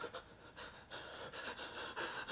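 Quick, quiet panting breaths repeat in a fast, uneven rhythm, soft and close with no talking.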